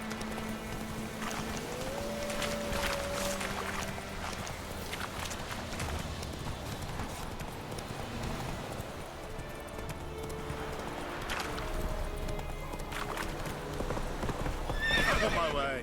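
Roach the horse gallops in The Witcher 3 with continuous rhythmic hoofbeats and a neigh, mixed with game music and ambience; a voice speaks partway through.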